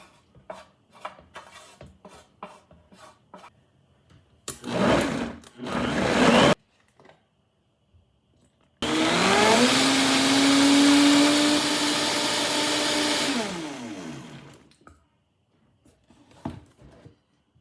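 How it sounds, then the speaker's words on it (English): A Vitamix blender whirs loudly for several seconds blending pasta sauce with almond milk, its motor pitch rising then dropping, framed by clattering dishes and utensil knocks before and after. "We're gonna go ahead and toss this in the Vitamix with some almond milk, maybe even a little vegan Parmesan"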